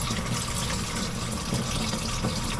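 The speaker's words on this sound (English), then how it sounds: "we're gonna fill up this water tank." Water rushing steadily into a campervan's onboard water tank outdoors, a dense continuous gushing and filling sound, close and constant throughout with no talk.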